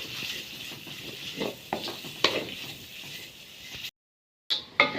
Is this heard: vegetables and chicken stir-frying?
yes